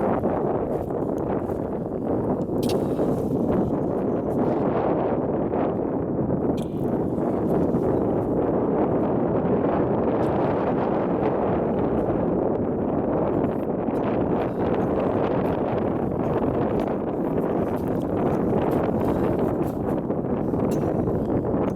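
Gusty wind buffets a climber high on the scree slopes of Mt Shasta along the Clear Creek route, a loud, steady broadband roar with rustling surges that never lets up.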